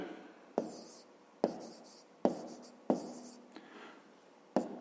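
Pen or pencil strokes on paper while a fifth-grade math exercise is being written out: five or six sharp scratchy bursts, each fading out, spaced about a second apart, close and clear with no talking.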